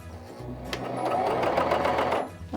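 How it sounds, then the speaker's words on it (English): A Janome CoverPro 3000 cover stitch machine starts up and runs a fast, buzzing stitch burst for a couple of seconds, close and prominent, with faint background hum before it begins. "With the regular cover stitch, you always want to start on the fabric"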